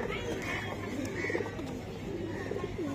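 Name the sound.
pigeon cooing, Babu breed pigeon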